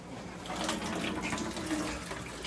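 Water runs steadily from a tap while a gas-fired steam boiler is being installed and filled, a continuous broadband rushing with no pauses, moderately close.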